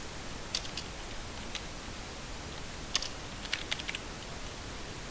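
Faint keystrokes on a computer keyboard come in sparse clusters of quick clicks over a quiet background, with a few isolated taps between them.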